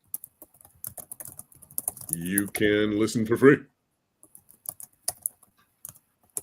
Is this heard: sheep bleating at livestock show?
no